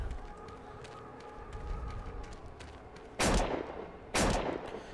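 Two loud, close rifle shots in the Neocron video game, about a second apart, each with a short decay, following a quieter stretch of game ambience.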